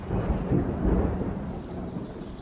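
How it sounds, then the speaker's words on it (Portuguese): Thunder in a film scene, a deep rolling rumble that swells in waves and carries on continuously, loud and close with no voices. "o som de trovoadas vai ficando cada vez mais alto e constante"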